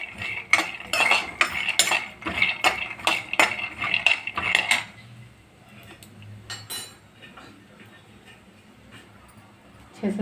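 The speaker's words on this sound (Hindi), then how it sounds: "इसको धीमी या लो फ्लेम पर ही आप भूनें" Peanuts roasting over a low flame are stirred in a pan for chutney, giving a quick run of close metallic scraping and clinking for about five seconds before it quiets to faint background noise.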